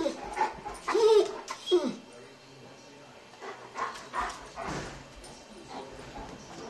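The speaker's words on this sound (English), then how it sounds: "I'm going to record these puppies going berserk." Puppies yip, whimper and bark in short excited bursts, close by, with a person speaking now and then over them.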